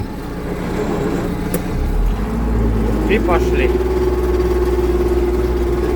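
MTZ-892 tractor engine being run in while ploughing with a three-bottom plough, a steady low drone that rises in pitch partway through, with a person speaking briefly over it.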